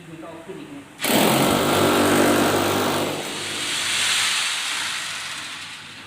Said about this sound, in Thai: เราเจาะเพื่อจะร้อยสกรูเข้าไปนะครับ